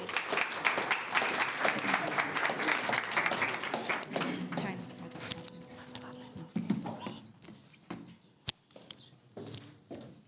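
Audience applause for a panel at a youth entrepreneurship skills programme launch, dense clapping for the first few seconds, then thinning to scattered claps with voices talking over a quieter room.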